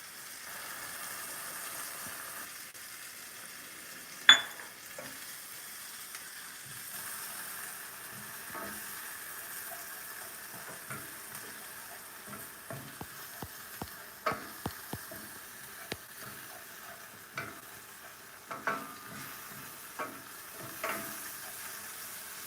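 Onions and alkaline curry powder being stirred in a pot for a vegan chickpea curry: a faint, steady sizzle with scattered soft scrapes and clicks of a spoon against the pot, some sharper knocks standing out.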